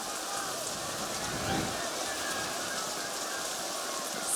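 Steady rain pours down over an outdoor ultimate frisbee final at the women's pro championships, a dense continuous hiss with faint crowd or voices beneath it.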